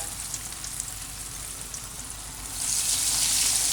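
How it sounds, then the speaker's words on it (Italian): Loud, continuous sizzling and crackling of chicken cordon bleu frying in oil, swelling brighter and more intense partway through. "cominciamo a friggere delicatamente"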